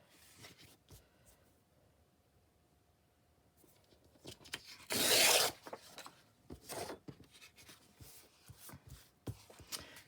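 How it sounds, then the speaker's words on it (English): Excess paper torn off a recycled pamphlet, a loud close rip lasting about half a second, with softer rustling and handling of paper before and after it. "So again, I just want to rip the excess off, or most of the excess off."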